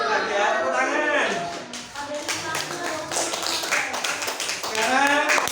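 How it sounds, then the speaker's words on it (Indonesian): Children in an Indonesian primary school classroom clap together in a quick burst of hand claps, with chattering voices and talk mixed through the sound. "Tepuk tangan."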